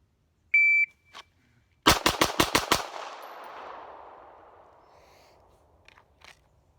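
Six rapid, evenly spaced Glock 19 pistol shots fired through a Texas Black Rifle Company stubby compensator in a Bill Drill, loud and close, with a long rumbling echo trailing off afterward and a few faint beeps before the string.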